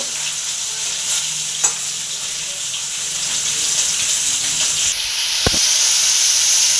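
Small mourala sea fish frying in a pan, a loud, continuous sizzle and hiss with a couple of sharp clatters as pieces are turned, the sizzle brightening toward the end.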